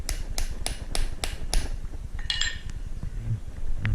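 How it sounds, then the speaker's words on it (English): Several sharp taps seat a boat carpet snap onto its post, a steady run of six evenly spaced strikes followed by a few lighter clinks, close and clear with no talking. "And you give it a few taps."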